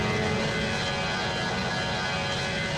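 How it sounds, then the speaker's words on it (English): Airliner engines roar steadily through a takeoff in the PTFS flight game, a dense continuous drone with no breaks or voices. "Let's see how good of a takeoff we can do."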